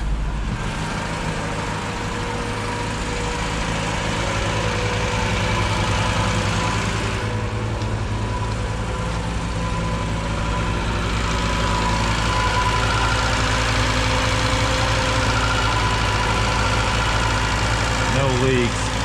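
A vintage 1968 BMW 1602/2002 engine runs with the hood open, a steady, close idle with a constant low drone and faint knocking, someone talking intermittently over it.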